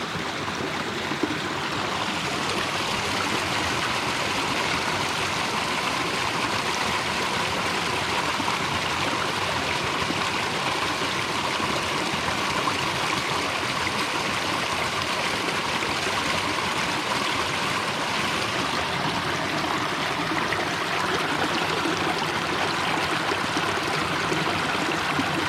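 A clear mountain stream crosses a hiking trail near the Middle Fork of the Snoqualmie River, North Bend, Washington, with a steady, close rush and babble of water continuing unbroken throughout.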